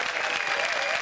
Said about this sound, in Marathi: जोरदार टाळ्या त्यांच्यासाठी.